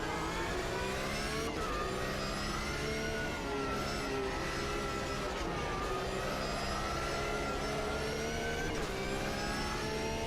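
A sprint car engine in the racing video game Automobilista 2 drones continuously at high revs, pitch rising and dipping as it accelerates and shifts, with a whiny, buzzing mechanical tone; no voices.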